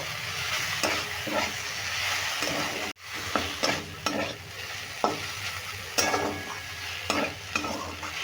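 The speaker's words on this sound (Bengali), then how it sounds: "টমেটোগুলো নরম হয়ে গেছে আমি এটাকে একটু ভেজে একদম ধুধুরের মতন করে নেব" Tomatoes and chana dal sizzle steadily in a pan while a spoon stirs and scrapes in repeated short knocks, with a brief break near the middle; close and moderately quiet, no talking.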